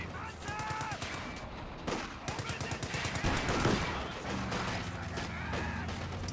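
Rapid bursts of gunfire, rifles and machine guns, crackle through a competitive online match in a video game, with dense repeated shots throughout and a commentator talking underneath.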